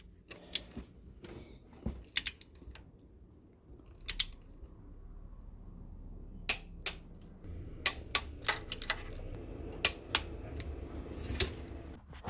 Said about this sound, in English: find out the torque settings for them and torque them down. That's all you need, just one click